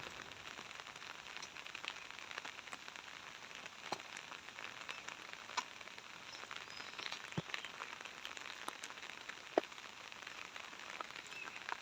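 Steady rain falls on a surface outdoors, a dense even patter with occasional louder drops, moderately quiet and with no voices.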